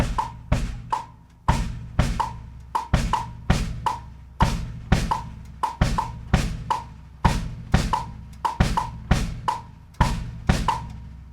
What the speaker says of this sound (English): adding a Clave with the left foot and then a tumbao with the right foot sounds like